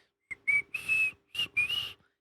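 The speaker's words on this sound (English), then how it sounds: "and then you start whistling the Harlem Globetrotters theme" Someone whistles a short bouncy tune, the Harlem Globetrotters theme, several quick clear notes in two phrases, close and alone.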